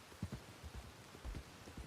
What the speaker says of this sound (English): this rain is nice